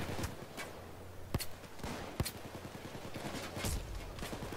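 Gunshots in Payday 2, a few sharp, separate reports spaced about a second apart, fairly quiet against a steady background of game ambience and footsteps.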